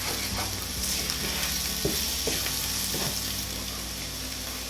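Ginger fries with spices in a pan for a ginger curry, a dense, constant sizzle close up, with a few soft scrapes and taps of a stirring spoon and no talking.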